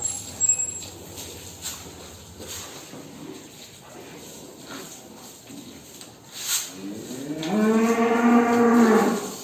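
Beef cattle moo loudly near the end, a long harmonic bellow rising over a quiet barn background with faint scattered noises earlier.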